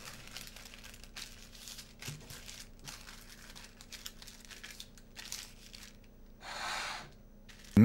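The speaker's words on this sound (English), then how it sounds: "Then fold the paper into a triangle and then again into a smaller triangle." Greaseproof paper being folded into triangles for lining a tart tin, giving dry crinkling and rustling that comes in short bursts, with one louder crumpling swell near the end.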